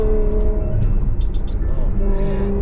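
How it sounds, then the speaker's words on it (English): A Ferrari 812 GTS V12 engine drones and shifts with harmonic tones stepping in pitch, close and loud under ongoing talk and road rumble. "Ooh, look at that downshift."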